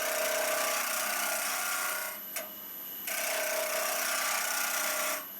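Lathe tools cut olive burl wood with a steady, continuous shaving hiss and a faint high whine, which drops out briefly and then resumes. It is close and fairly loud, with no voices.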